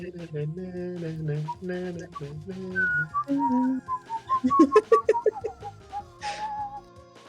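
Someone whistles the Wallace and Gromit theme tune close up, a bouncy melody of short, clear pitched notes that climbs higher partway through, with a lower, breathy hummed opening.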